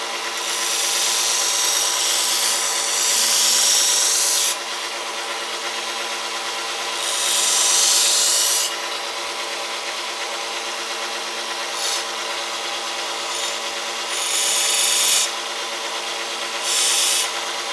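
A kitchen knife blade being stroked to flatten a dish, heard as several long, loud rasping strokes alone, each running a few seconds, with quiet pauses between and shorter strokes toward the end.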